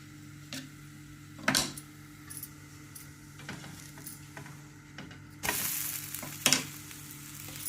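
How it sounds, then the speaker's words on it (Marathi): Plain hotel-style dosa batter on a hot pan gives a soft, steady sizzle, close but quiet, broken by a few sharp clinks and scrapes of a utensil. "एक डोसा घालून दाखवला, एक साधा डोसा."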